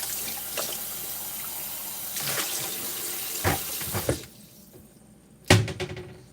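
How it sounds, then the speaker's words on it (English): Tap water runs steadily into dishes in a kitchen sink, a close continuous splashing rush that cuts off near the end, followed by a brief clatter. "I just wanted to add water to the"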